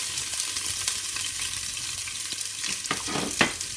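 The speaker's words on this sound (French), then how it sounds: "je vais venir ajouter dans l'huile d'olive l'oignon coupé en lamelles" Sliced onion sizzles in olive oil in a pan, a steady close crackling fry with a few stirring scrapes near the end.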